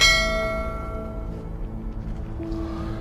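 A single notification bell sound effect strikes and rings out, its bright metallic tone decaying slowly into a low, lingering hum.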